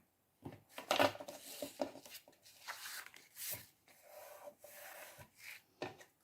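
Washi tape is burnished in place by hand, producing faint, close scraping and rubbing strokes in short, uneven passes.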